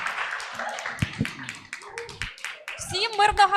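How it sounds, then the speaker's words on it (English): Scattered clapping from a small audience at a networking and partnership meeting, sharp distinct claps mixed with overlapping voices and chatter throughout. "You can just give the round of applause."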